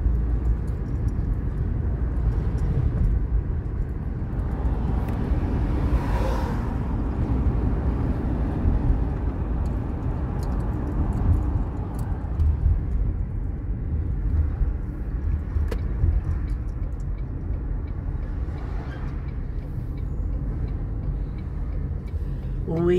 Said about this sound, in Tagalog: kaya maraming sasakyan kahit dito sa community